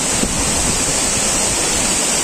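Bambarakanda waterfall in Sri Lanka, the country's tallest cascade at 263 metres, fed by a tributary of the Walawe River, roars as a steady broadband wash of falling water with no gaps or voices.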